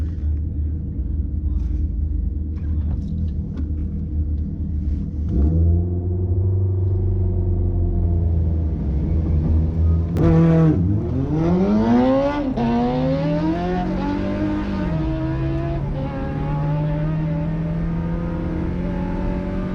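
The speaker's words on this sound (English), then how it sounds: "Make sure I line up in the groove for maximum traction for my 18-second quarter-mile run." Car launching down a drag strip on an 18-second quarter-mile run, a low idling rumble that swells into loud revving engine sweeps rising in pitch through successive gear changes, with a voice talking over it.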